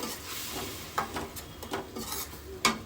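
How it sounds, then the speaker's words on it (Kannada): Tomato paste frying in a pan for drumstick gojju, a soft sizzle under gentle stirring, with a few light scrapes and clinks of a spoon against the pan. "ಟೊಮೆಟೊ ಪೇಸ್ಟ್ ಹಾಕಿದ್ಮೇಲೆ ಒಂದು ಎರಡರಿಂದ ಮೂರು ನಿಮಿಷ ಹಾಗೆ ಫ್ರೈ ಮಾಡಿಕೊಂಡು"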